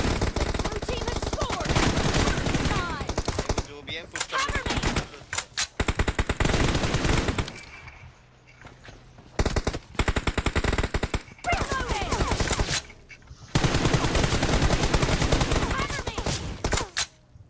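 Rapid automatic gunfire from a BGMI team deathmatch game fills the clip, loud sustained bursts broken by short pauses, with occasional single shots and brief gaps between volleys.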